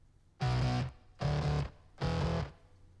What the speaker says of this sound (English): The saturation part of this plugin, the tube, nasty.